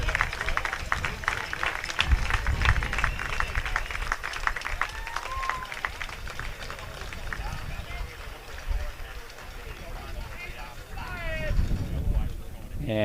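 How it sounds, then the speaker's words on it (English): Crowd at a high school baseball playoff game applauding a departing pitcher, steady clapping and cheering at moderate distance that runs under a commentator's ongoing talk. "Gonzalez gets a well-deserved round of applause."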